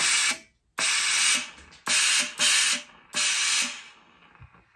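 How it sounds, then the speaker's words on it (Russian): Bieffe BF-Mini 3 steam generator releasing steam: four loud, sharp hissing bursts, each about half a second to a second long, separated by brief pauses. "Попробуем пар."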